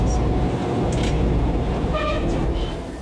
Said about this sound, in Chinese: 火车慢慢驶